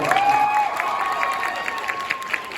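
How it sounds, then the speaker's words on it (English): A convention panel audience gives a round of applause, scattered clapping with some crowd noise and a voice briefly over the start. "let's get a round of applause"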